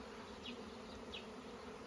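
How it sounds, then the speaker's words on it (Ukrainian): A swarm of bees hums in a constant, faint buzzing drone, with a couple of individual bees zipping closer past the steady swarm sound. "повилітали бджоли і дуже гудять, так чути страшне"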